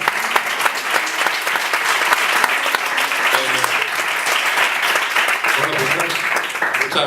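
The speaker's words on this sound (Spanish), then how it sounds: "os pido este primer fuerte aplauso inicial" A large audience at a Spanish talk event about left-wing footballers breaks into sustained, dense applause for the guest, steady and loud throughout, with a few voices murmuring underneath.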